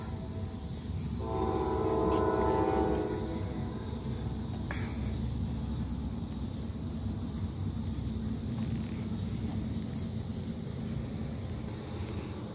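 A train rumbles steadily past with a low, continuous roar, and a brief horn blast sounds early on before the long passing drone continues.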